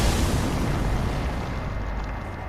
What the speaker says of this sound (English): You get a big explosion that doesn't look too dissimilar from his first form.